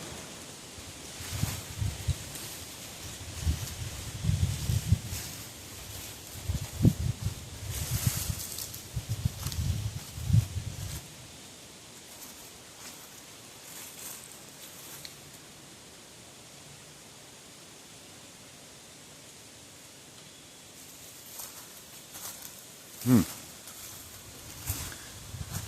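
Wind rushes through trees in Ohio woods before rain, a broad, steady hiss that surges in loud gusts early on and eases to a quieter wash, with a few scattered knocks and rustles.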